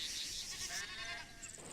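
Goats bleat in a military convoy-escort video game, with a few wavering, nasal cries close by over steady game background noise.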